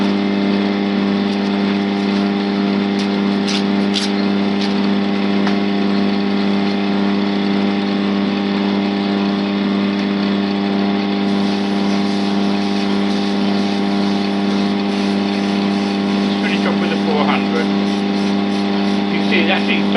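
Wood lathe spins an acrylic pen blank while it is sanded at 400 grit. A steady motor hum and whine carries loud and constant throughout, with faint scratchy sanding texture on top.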